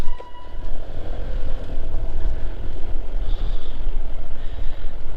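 Honda Click scooter fitted with big tires riding along, a steady low engine drone with rumbling road and wind noise, close and continuous with slight fluctuations.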